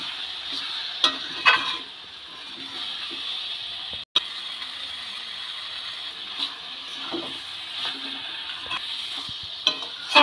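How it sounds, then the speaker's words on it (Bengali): Cabbage with spices being stirred in a frying pan, a steady bright sizzle punctuated by scraping and clattering strokes of the spatula, close by, with one brief break. "মশলাটা দিয়ে বাঁধাকপিটাকে খুব ভালো করে নেড়ে নিলাম"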